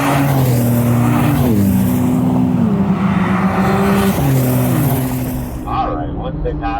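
A BMW M car on a driving-experience track accelerates down the straightaway, its loud, close engine drone holding strong harmonic tones that climb and dip through gear changes before easing off near the end.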